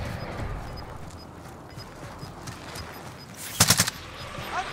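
A short, rapid burst of automatic gunfire crackles in Call of Duty: Modern Warfare, rising sharply for about a third of a second out of a steady background of game ambience.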